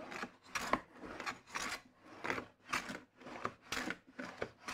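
A hand plane shaves wood at an angle while a dovetailed hanging wall unit is assembled, giving a close, rhythmic series of about nine rasping strokes, each a short swish with a brief pause between, and no talking.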